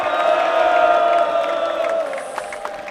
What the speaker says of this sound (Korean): 아펜젤러 합창단에게도 뜨거운 박수와 함성을 보내주시기 바랍니다